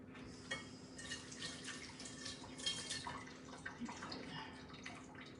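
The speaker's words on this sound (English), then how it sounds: "Just need to wash the glue off my hands." Running water from a tap splashes steadily as glue is washed off hands at a sink, a continuous broadband rush with small irregular spatters, close and fairly soft.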